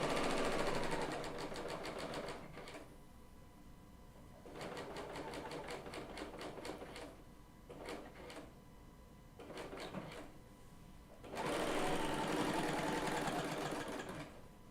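A Bernina L890 serger stitches rapidly while its blade trims loose threads from the edge of quilt binding, running in several bursts with short pauses, loud and close, and no one speaking.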